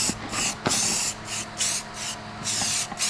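Aerosol spray paint hisses onto a part of a 30-year-old bobber chopper motorcycle in several short bursts with brief gaps between them, close and loud with no talk.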